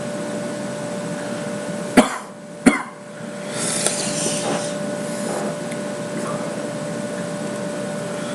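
Two sharp coughs close by, followed by quieter throat clearing and breathing, after eating a very hot yellow 7-Pot chili pepper, over a steady background hum.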